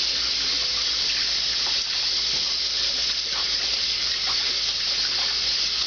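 Tap water running steadily into a sink while a cloth is washed, a close, continuous hissing gush with no talking.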